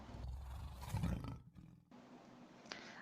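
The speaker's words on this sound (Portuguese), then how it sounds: "O leão. O rugido dele é bem grave" A lion gives a deep, rumbling roar, loud and close, swelling for about a second and then trailing off, followed by quieter ambient noise.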